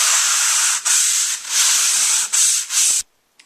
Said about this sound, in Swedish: det är dags att slipa spacklet nu